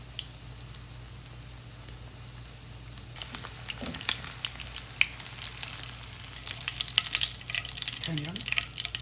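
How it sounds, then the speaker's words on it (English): A chicken cutlet fries in shallow oil, a soft steady sizzle that grows busier and crackles more after a few seconds, with occasional spatters and a stir, fairly quiet and close. "You see the oil is halfway on the chicken cutlet. So I'm gonna cook like about 4 minutes on one side"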